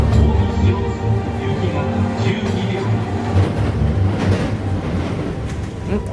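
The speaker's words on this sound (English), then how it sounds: "The train hurtles towards Amagasaki station." A speeding train rushes toward Amagasaki station, a loud, steady low rumble and rattle of carriages at speed, continuous and close, with faint voices under it.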